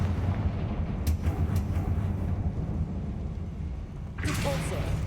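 A Confringo blasting spell goes off in Hogwarts Legacy: sharp cracks and booming bursts rise above a rumbling battle backdrop, with another loud blast near the end.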